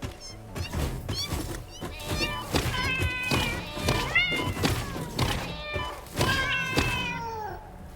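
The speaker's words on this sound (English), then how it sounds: "Go away, cat!" A cat meows repeatedly and insistently, close by, its rising and falling cries stacked one after another alongside a few dull thumps.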